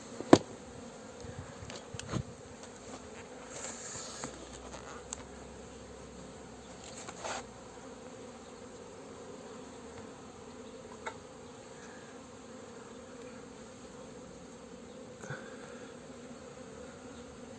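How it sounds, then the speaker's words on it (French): Low, steady buzzing of many bees close by, with scattered soft knocks and bumps over the droning hum. "on voit, il y a les abeilles dedans"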